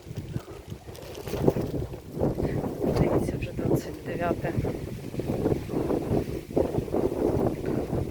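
Gusty wind outdoors in Zhytomyr on a suddenly cooled day buffets the microphone in rough, uneven bursts, heard under a person talking.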